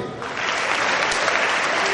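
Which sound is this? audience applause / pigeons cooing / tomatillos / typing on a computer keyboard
audience applause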